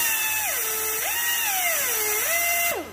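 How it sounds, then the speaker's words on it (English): A cheap Harbor Freight 3/8 pneumatic drill whines steadily while removing vinyl stickers, its pitch dropping and rising a few times as it spins up and slows, then cutting off abruptly. "just a cheap Harbor Freight 3/8 pneumatic drill."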